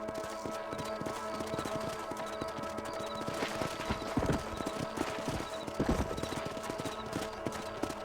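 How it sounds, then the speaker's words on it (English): Horse hooves galloping in the Red Dead Redemption video game on Nintendo Switch: a continuous rapid clip-clop of hoofbeats over open ground, steady and fairly loud, with a few heavier thuds and possible faint snorting, under ambient game sound. "Let's get back on the horses and see what else is going on."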